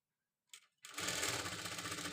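Sewing machine stitching piping on a boutique-style garment: a short tap of the needle, a pause, then a steady, fast, close-up whirring run of stitches that keeps going to the end.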